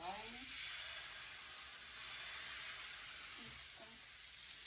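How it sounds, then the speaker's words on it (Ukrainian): Steady crackling sizzle of milk pancake batter frying in a hot pan, continuous throughout with faint clinks of a ladle. "Все, сковорідка нагрілась. Беремо черпачок, наливаємо."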